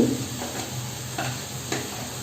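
A large chopped tomato goes into a hot pan for Punjabi dhaba-style mixed dal tadka, producing a steady close sizzle broken by a few light stirring clicks and scrapes, with no talking.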